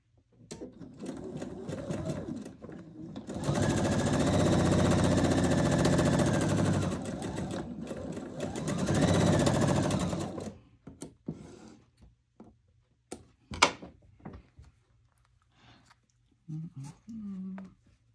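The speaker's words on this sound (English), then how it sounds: "I'm going to sew 1/4 inch seam." A sewing machine runs a quarter-inch seam on quilt fabric in a loud, steady whir for about ten seconds, close up. It then stops, leaving a few soft clicks and handling sounds.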